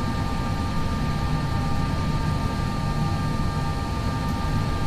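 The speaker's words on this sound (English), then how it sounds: "next up is the actual takeoff roll here" JARDesign A320 on its takeoff roll in X-Plane 11: a steady, loud jet engine roar with a constant low rumble and faint tonal whine, unbroken for the whole stretch with no talk.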